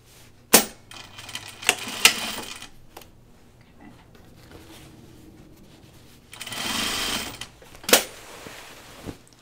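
A sewing machine stitches denim on a pair of jeans. Short close whirs and clicks mix with a longer buzzing run and sharp taps.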